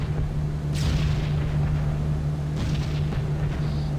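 Anti-aircraft flak bursting around a B-17 Flying Fortress bomber in a flight game, heard as dull, continuous booming over a constant engine drone, with a couple of swelling rumbles.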